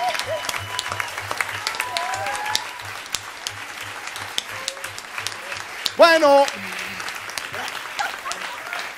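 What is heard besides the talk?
audience applause for the band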